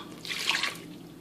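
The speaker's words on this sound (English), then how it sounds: "I'm just going to add the first quantity of water." Water poured into a mixing bowl of meringue powder, a brief soft splashing pour that rises and fades within about half a second, fairly close and quiet.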